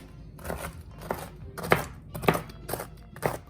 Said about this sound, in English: just gonna rough chop them with my knife here